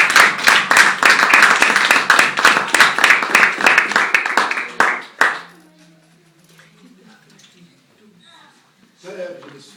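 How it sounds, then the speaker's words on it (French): A church congregation claps in a rapid, steady rhythm for several seconds, loud and close, then the applause cuts off into quiet murmuring with a voice rising near the end. "Acclamons pour la parole de Dieu"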